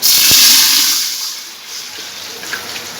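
A rush of water poured into a pot of hot oil and fried spices, loud at first then fading into a softer hiss and light sloshing.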